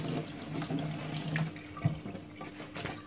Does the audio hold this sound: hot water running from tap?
yes